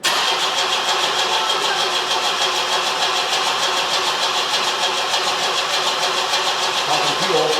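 A 1973 Opel Ascona engine, abandoned for years, cranks in a steady, fast rhythmic churn close by. The cranking runs almost unbroken throughout with no clear catch, and there is a faint thump near the end.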